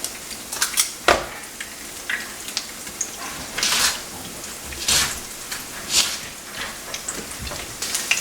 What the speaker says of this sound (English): We want to let these fry until they are nice golden brown on the bottoms.